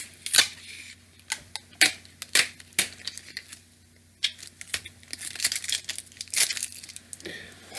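Close, crisp crinkling and sharp tearing snaps from Scotch tape being handled and pulled off the roll, irregular bursts separated by short quiet gaps, with no speech.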